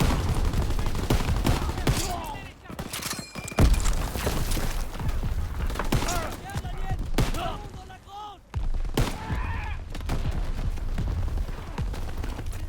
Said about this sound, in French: Les PAC 38 nous tirent dessus.